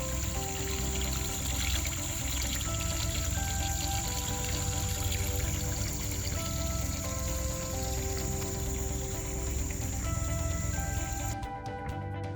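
Treated wastewater effluent from a treatment plant discharges at an outfall into a creek, making a steady, dense rush of pouring water that continues without a break and sounds fairly close.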